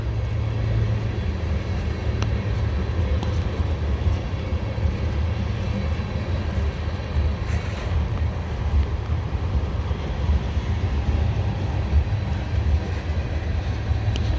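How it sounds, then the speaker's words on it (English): A heavy CSX freight train, underpowered, grinds up the grade at Parrs Ridge in a steady, deep rumble that holds constant throughout, with a faint higher-pitched mechanical hum above it and no voices. "Yeah, because there is the end of the train."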